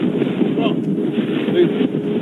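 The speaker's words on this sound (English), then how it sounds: "the most severe gust that's pushing through" Severe wind gust during Hurricane Irma on a flooded street, a loud sustained roar buffeting the microphone with rumbling low bursts, continuous for the whole stretch.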